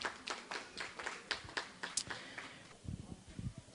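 Scattered handclapping from a conference audience, a burst of sharp claps that thins out over a few seconds before a lower voice-like murmur takes over, fairly faint and distant.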